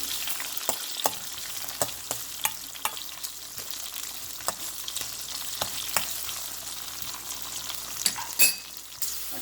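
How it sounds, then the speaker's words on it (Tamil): Green chillies and curry leaves frying in oil in a pan for a pumpkin dish, giving a steady close crackling sizzle broken by sharp spitting pops and occasional stirring knocks, with no voices. "பச்சை மிளகாய் கருவேப்பமிலை எல்லாம் நல்லா வதங்கட்டும்"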